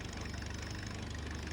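A car engine idles steadily in a video game, a continuous low rumble with a slight knocking pulse, heard alone without talk.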